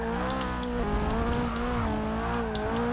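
A race car in Forza Motorsport 6 on a warm-up lap: a loud, steady high engine whine with shifting pitch, brief tire squeals over the drone, no voices.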